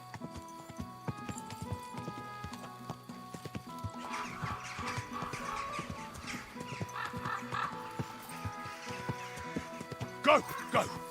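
Rhythmic clip-clop of horse hooves in Kingdom Come: Deliverance II, with a whinny near the end, over layered game music and effects.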